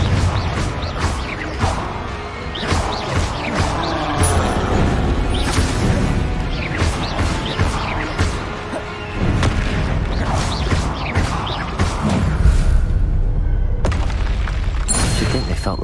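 Repeated Confringo spell blasts in Hogwarts Legacy, a run of booming explosions and crashes going off one after another at close range amid dense battle noise.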